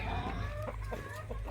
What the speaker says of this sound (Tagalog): Ganda ng rooster.